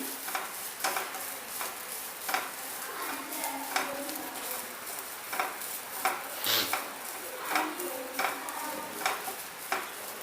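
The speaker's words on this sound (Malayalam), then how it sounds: "തേങ്ങ ചെറുതായി ഒന്ന് വഴന്ന് വരട്ടെ." Grated coconut sautéing in a pan for a sweet roll filling, with steady scraping strokes of a spoon against the pan at a regular rhythm over a soft sizzle, close and moderately loud.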